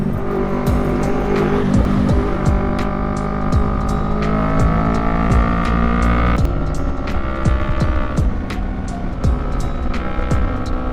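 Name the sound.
motorcycle engine revving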